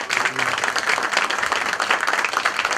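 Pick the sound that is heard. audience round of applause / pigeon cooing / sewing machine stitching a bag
audience round of applause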